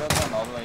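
Gunfire in a first-person shooter match, a burst of close, loud shots packed into a fraction of a second, with a faint voice underneath.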